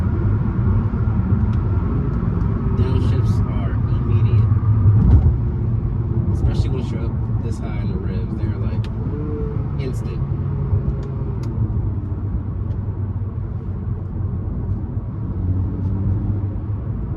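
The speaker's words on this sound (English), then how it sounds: "this thing smoothly throws itself into gear" An Acura ILX with a K24 engine and dual-clutch transmission drones steadily from inside the cabin, its low engine note rising and dropping with smooth gear changes while someone talks over it.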